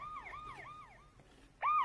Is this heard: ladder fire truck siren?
yes